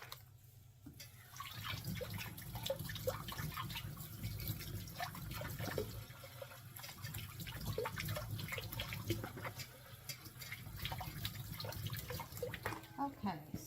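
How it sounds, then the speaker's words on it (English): Fresh mushrooms are rinsed under a running kitchen tap, a steady close rush of water with scattered splashes and drips throughout, speech likely faint underneath. "I'm going to wash up these mushrooms"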